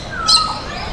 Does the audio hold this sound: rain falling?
no